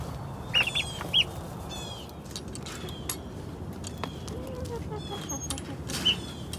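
Free-ranging hens cluck and chirp in short bursts over a steady outdoor background on a farm, with a person talking quietly at moments.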